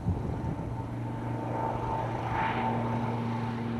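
A light aircraft flies over Alaska with a steady, continuous propeller-engine drone that stays at a fairly loud, even level, with no voices.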